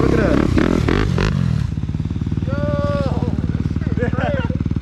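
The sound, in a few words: 2022 Yamaha YZ125 two-stroke dirt bike engine running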